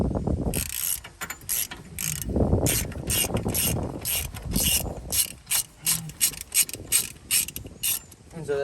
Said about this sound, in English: And now we're just gonna take off this nut.